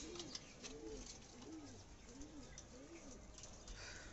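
Pigeons in a home loft coo in soft, repeated rolling calls. The calls are faint and fairly distant, returning every half second or so over low background noise.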